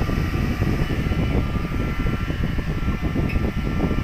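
Cooling blower fan inside a newly unboxed welding machine, running as a steady, close whirring rush of air with no speech over it.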